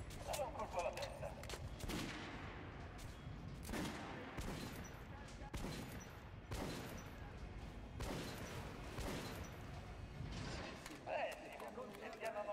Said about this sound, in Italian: Basta giocare, spara alla testa del bersaglio.